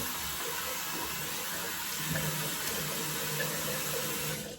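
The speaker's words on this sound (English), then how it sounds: "Let's go ahead and splash some more water on my face, re-moisten." Running water at a bathroom sink as a face is splashed while shaving, a steady broadband wash with a few louder splashy bursts around the middle, close and without any talk.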